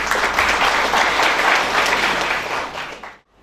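Audience at a university freshers orientation applauds a professor coming on stage, loud sustained clapping from a large crowd in a hall that cuts off abruptly at the end.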